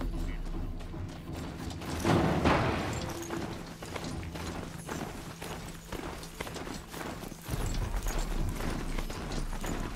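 A rideable machine mount in Horizon Zero Dawn trots with rapid, continuous clip-clop hoofbeats, close and steady throughout, over low mechanical rumbling and a brief boom near the start.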